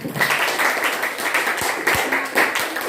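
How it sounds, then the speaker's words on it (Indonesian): Ninth-grade students applaud in an Indonesian classroom during a teaching performance test, a steady patter of many hands clapping for about three seconds, fairly close and continuous with a few sharp taps standing out. "Tepuk tangan semuanya."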